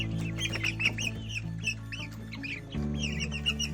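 Sick 35-day-old parent stock chicks with dirty vents peep repeatedly in short, high, arching chirps over a steady low hum.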